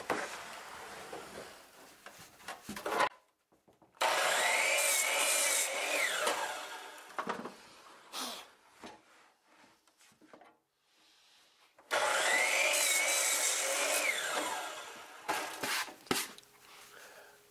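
Wood for beehive brood frames is cut with a power saw in two long loud bursts, separated by quieter pauses with brief shorter cuts, close up.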